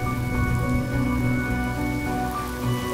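Steady rain pours down in a Honkai Star Rail cutscene, a dense, continuous hiss of falling drops over a low droning backdrop of tones, loud and unbroken throughout.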